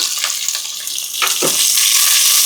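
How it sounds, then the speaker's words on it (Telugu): Mustard seeds, lentils, cumin and crushed garlic sizzle in hot oil, a loud, steady bright hiss that swells in intensity partway through and continues without talk. "ఆవాలు, పప్పులు, జీలకర్ర, కొంచెం క్రష్ చేసుకున్న వెల్లుల్లిపాయ ఇవన్నీ వేసేసుకోవాలండి"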